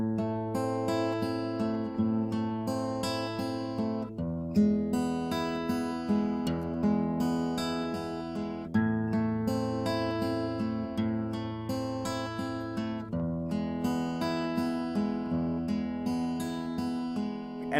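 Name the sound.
guitar finger picking pattern with thumb and three fingers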